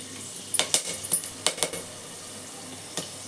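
Star anise and cinnamon hit hot oil while making veg pulao, giving a quiet sizzle. It is punctuated by a handful of sharp clinks and taps from the pan and spoon, then a pause and one last tap.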